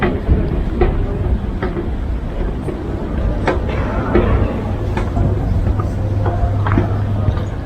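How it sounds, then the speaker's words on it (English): Ambience inside a good-sized train station in Pilsen, Czechia: a steady low rumble with scattered clicks, clatter and distant voices, and a low hum building in the latter half. "Very nice train station."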